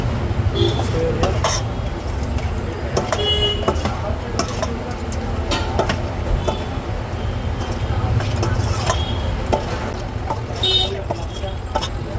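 Spoon scraping and clinking in a pan as food is mixed with masala while making leg pieces, a steady run of metallic knocks and stirring under a kitchen hum, with occasional talk and a distant horn.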